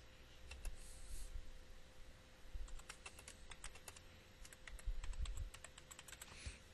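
Computer keyboard typing while entering a title into an Excel spreadsheet cell, a steady run of quick, light key clicks in irregular bursts, close up over a quiet background with no talking.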